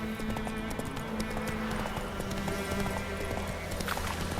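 Roach, a horse in The Witcher 3: Wild Hunt, gallops steadily, with rapid, even clip-clop hoofbeats close by over a low game ambience.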